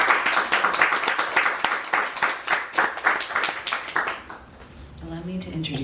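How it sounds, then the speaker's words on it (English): Audience applause at a book launch in a bookstore, a lively round of rhythmic clapping from a small crowd that fades out as a voice begins speaking. "Please give a round of applause."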